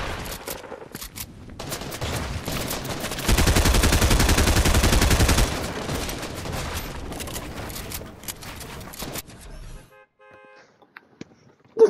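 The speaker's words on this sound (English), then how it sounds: "People shooting him." Rapid gunfire from a Fortnite battle royale match, a dense, loud burst of shots in the middle of the stretch with scattered game sounds around it, no talking.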